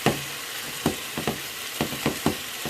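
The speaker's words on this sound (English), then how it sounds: "sounds like a sizzling sound in there" Cubes of partly cooked chicken fry in a pan with a constant bright sizzle, broken by several sharp scraping taps of a utensil breaking them apart, close and moderately loud.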